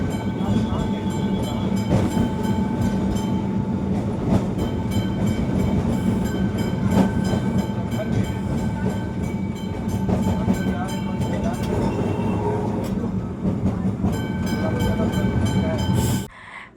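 An old wooden tram rumbles along city tracks, a steady rolling clatter with metallic ringing tones and squeals, fairly loud and continuous, with street traffic noise around it.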